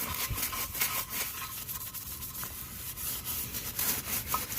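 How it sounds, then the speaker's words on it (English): A brush scrubs dirt and brake dust off a car wheel in repeated, rapid bristly strokes, close and fairly loud, with a steady rubbing rhythm. "So now you just start brushing it."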